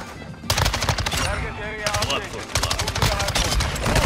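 An MX9 submachine gun fires in Modern Warfare 2, loud rapid automatic bursts rattling close up, with a voice talking over the shooting.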